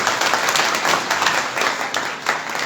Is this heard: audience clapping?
yes